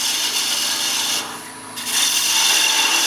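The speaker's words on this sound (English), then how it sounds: "a lot of times I use my small parting tool, 1/16 of an inch tool" Small 1/16-inch parting tool cutting into a wooden angel ornament spinning on a wood lathe, giving a steady close scraping rasp that dips for a moment and then resumes louder.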